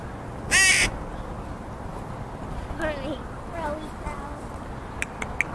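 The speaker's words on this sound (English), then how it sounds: "Where's the baby crow?" A young crow near a chicken coop gives one loud, harsh caw early on, followed by softer calls and faint voices, with a few light clicks near the end.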